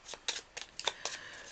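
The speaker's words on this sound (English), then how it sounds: "So I'll give these a shuffle before I start the game" Deck of playing cards being shuffled before a solo board game, several quick papery riffles and flicks in short bursts, close and fairly quiet.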